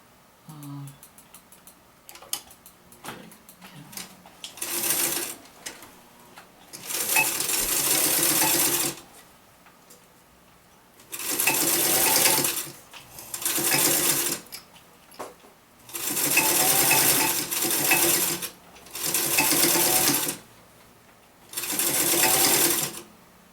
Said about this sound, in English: Okay, so I'm going to sew the zipper to this divider piece.